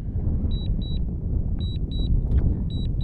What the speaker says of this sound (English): you will hear the beeps